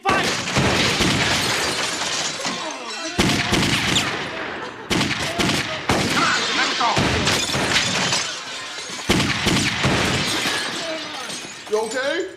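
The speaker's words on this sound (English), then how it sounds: "we're taking fire!" Heavy gunfire striking during a getaway chase, dense loud bursts of shots and shattering impacts that come in long volleys separated by brief gaps, with shouting voices mixed in.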